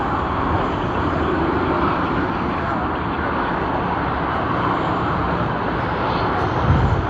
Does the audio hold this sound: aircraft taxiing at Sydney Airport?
yes